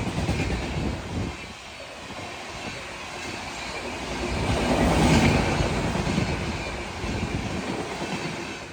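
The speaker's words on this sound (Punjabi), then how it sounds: "ਜਿਹੜੀ ਟ੍ਰੇਨ ਲੰਘ ਰਹੀ ਆ ਇਹ ਹੈਗੀ ਅੰਮ੍ਰਿਤਸਰ ਜਯਾ ਨਗਰ ਐਕਸਪ੍ਰੈਸ" Loud rumble and rattle of the Amritsar–Jaynagar superfast express rushing through a station without stopping, up close, the roar swelling to a peak midway then continuing with clattering wheels.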